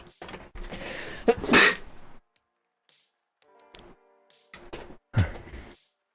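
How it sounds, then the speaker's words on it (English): A single sharp sneeze bursts out close by, followed by a few quiet thumps and shuffling in an otherwise quiet room. "I feel a sneeze coming, like, quick, push away from the mic"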